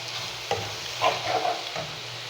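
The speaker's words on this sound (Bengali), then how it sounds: "এবার দিয়ে দিব এলাচ, দারচিনি। দিয়ে নাড়া দিয়ে দিব।" Cardamom and cinnamon are stirred in hot oil while an egg curry is being made. A low sizzle runs underneath a few distinct scraping stir strokes, close and moderately loud, with no speech.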